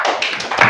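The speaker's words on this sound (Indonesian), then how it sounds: "Kita berikan tepuk tangan dulu" A classroom of students applauds a classmate's answer, a dense burst of hand claps lasting under a second, close and fairly loud, with no talking over it.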